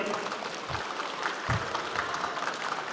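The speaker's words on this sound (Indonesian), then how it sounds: "Tepuk tangan buat Kang Emil" Audience at a national youth council meeting in Indonesia applauding for Governor Ridwan Kamil, a dense, continuous burst of crowd clapping at moderate volume with a few low thumps.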